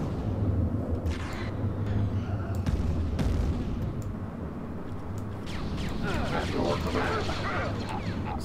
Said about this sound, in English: These artillery take a while to fire again.